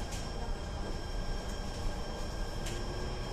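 Jakarta MRT subway train riding toward Lebak Bulus Grand, a steady broadband rumble and hiss from inside the carriage with faint tonal whine, constant and close, no talk.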